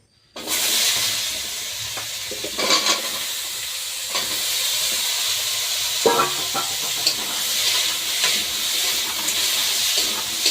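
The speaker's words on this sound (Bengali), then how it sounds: "মাছ ভেজে যা একটু তেল ছিল অল্প একটু সেই তেলে ওলটা দিয়ে দেবো" Chunks of elephant foot yam frying in a little leftover fish-frying oil, a steady close sizzle and hiss that runs the whole clip with a few louder crackling pops and no talk.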